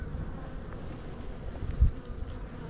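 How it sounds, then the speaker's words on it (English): Honeybees swarm around an open hive in a backyard apiary, a dense, steady buzzing hum close to the microphone with a brief louder thump near the end, no talking. "I'm gonna shake all these bees off and I'm gonna leave them here with this hive."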